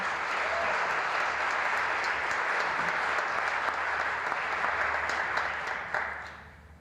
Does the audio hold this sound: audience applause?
yes